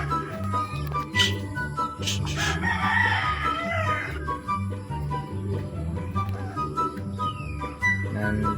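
A rooster crows once from a short distance at a racing-pigeon loft in Miag-ao, Iloilo, over a steady low mechanical hum, with occasional faint chirps and rustles around it.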